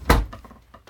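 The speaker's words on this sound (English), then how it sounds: "My dog is opening my door." A dog pushes open a room door, giving a single solid thunk near the start, followed by faint rustling and small knocks at close range.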